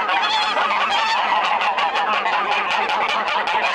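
A flock of fighting geese honk loudly and continuously, overlapping calls close by in a rapid repeated chorus, with no talk.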